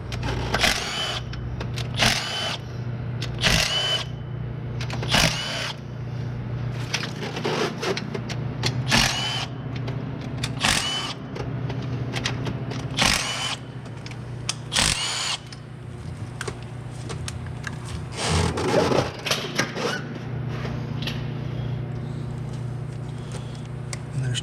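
A power tool, likely a drill or impact driver, whirs in repeated short bursts while removing 8mm and 10mm intake plenum bolts and nut studs on a GM 3800 engine in a 2007 Buick LaCrosse, close and fairly loud with pauses between.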